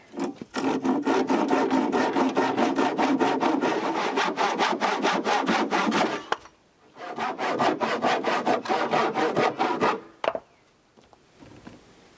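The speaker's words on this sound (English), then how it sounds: "Handsaw to cut that." A handsaw cuts through a wooden stair board with a fast, steady back-and-forth rasp, close and loud, pausing briefly midway before resuming and then stopping.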